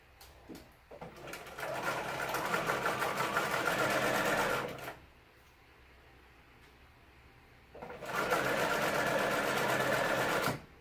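Domestic sewing machine stitching palazzo pants fabric, two steady mechanical whirring runs close by, separated by a quiet pause, with faint room noise and no talk.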